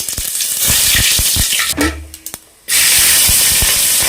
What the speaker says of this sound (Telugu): ఒక వన్ స్పూన్ నెయ్యి ఆయిల్ వేడెక్కాక మసాలా ఐటమ్స్ వేసుకుందాం